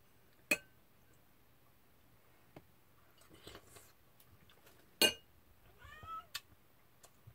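A cat meows once near the end of a quiet stretch, a short rising-then-falling cry, with a few sharp clicks and clinks of eating and utensils around it.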